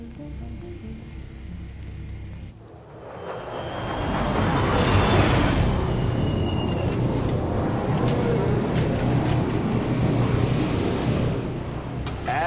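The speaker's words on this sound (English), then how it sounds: "Advent just airlifted out their first crate." An Advent aircraft lifts a supply crate away in XCOM 2: War of the Chosen, a broad roaring engine-and-wind rush that swells after a few seconds and holds steady, loud and continuous.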